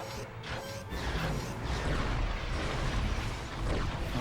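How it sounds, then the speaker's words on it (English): An explosion in the video game Ratchet & Clank: Going Commando during an arena challenge erupts as a dense rumbling blast, with crashing, whooshing game effects and steady background music throughout. "I think I got hit by an explosion or something."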